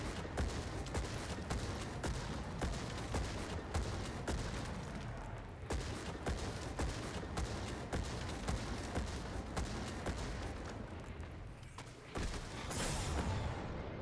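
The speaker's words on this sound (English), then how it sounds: "There's not much I can do when it's shooting in the doorway like this" Enemy fire in Destiny 2 in the Lake of Shadows Grandmaster Nightfall, a continuous barrage of shots and impacts pounding a doorway, steady and fairly quiet throughout with no let-up.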